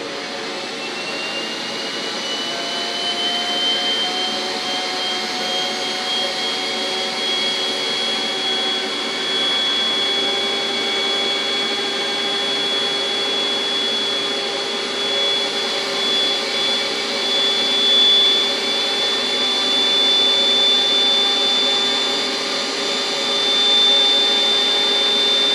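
Model F-18 jet turbine engine running with a steady high whine and a faint rising tone as the throttle comes up, continuous and fairly loud with no voices.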